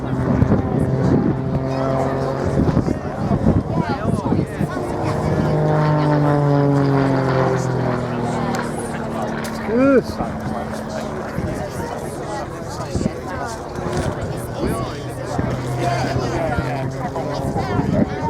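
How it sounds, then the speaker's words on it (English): At the Shoreham Airshow 2014, an all-composite aerobatic aircraft with a single Lycoming piston engine drones overhead, its propeller note rising and falling in pitch beneath continuous loudspeaker commentary. "An aircraft of all composite construction, powered by a single Lycoming piston engine."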